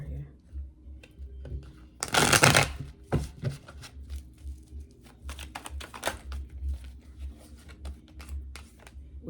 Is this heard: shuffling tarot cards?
yes